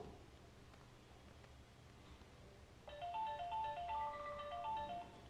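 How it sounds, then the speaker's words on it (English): Ringtone on a Coolpad Note 3 phone, a bright repeating melodic tune that starts partway through after a quiet stretch and plays steadily at moderate volume. "apply this ringtone as a default for incoming calls"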